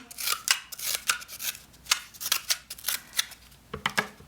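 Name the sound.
scissors snipping paper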